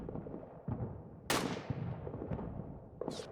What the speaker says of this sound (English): The artillery seems to be falling short of me.